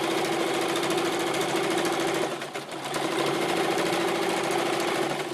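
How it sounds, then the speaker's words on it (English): A sewing machine runs a steady straight stitch through baby blanket fabric, a continuous close whirring hum with a brief dip midway, with no talking over it. "Now I'm just doing a straight stitch, nothing real decorative or fancy."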